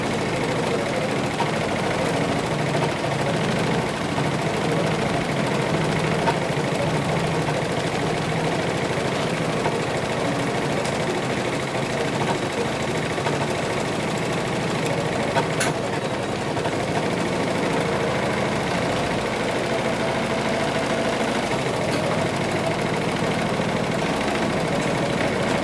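An embroidery machine stitches a design, working through the eyes of a pattern. It gives off a loud, steady mechanical whir that never lets up, with no talking over it.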